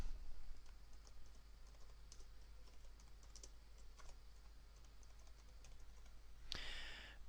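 Steady typing on a computer keyboard while course details are entered into a form, quick soft key clicks running for several seconds at close range with no talking, ending in a brighter burst of louder clicks.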